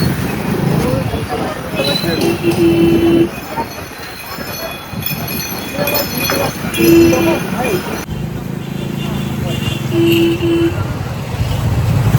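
A train rumbles steadily along the rails near Madhyamgram station, with repeated brief horn-like tones cutting through and people talking over the noise.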